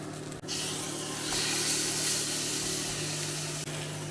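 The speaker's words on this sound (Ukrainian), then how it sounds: "і підсмажуємо з однієї сторони хвилинки дві, а потім е, перевернемо" Chudu flatbreads filled with greens and cheese frying in a pan over medium heat, giving a steady, fairly loud sizzling hiss that runs the whole time with a couple of brief dips.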